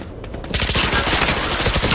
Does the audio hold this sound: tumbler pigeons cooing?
no